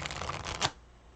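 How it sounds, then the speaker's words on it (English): Tarot cards riffle-shuffled in one continuous burst close to the mic, ending in a quick snap as the deck comes together, then near silence. "let's shuffle these tarot cards"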